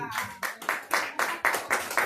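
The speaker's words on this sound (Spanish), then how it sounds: "¿Cuántos le dan un aplauso al Señor?" A church congregation claps in short rhythmic bursts, about eight sharp group claps in quick succession, loud and close, with some voices mixed in among the clapping.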